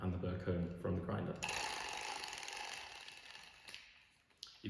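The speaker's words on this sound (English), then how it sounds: "You can hold the clicker with this hand and turn the crank." The crank of a Comandante X25 Trailmaster hand coffee grinder turns while its clicker is removed, giving a few close mechanical ratcheting clicks, then a brief rough scrape that fades.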